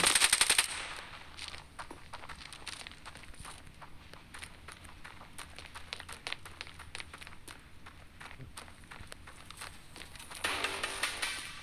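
Rapid bursts of gunfire in the shooter game Standoff 2 crackle repeatedly at moderate distance, with a louder cluster of shots near the end and no talking.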